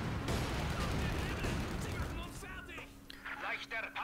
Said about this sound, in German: Hier jetzt die leichte Artillerie.